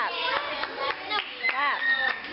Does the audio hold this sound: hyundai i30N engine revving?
no